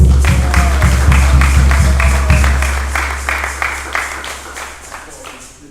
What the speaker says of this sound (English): Give her a nice round of applause, family